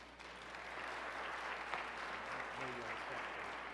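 A crowd gives a warm round of applause at a program in a hall, the clapping faint and steady throughout, with a voice briefly heard underneath near the end.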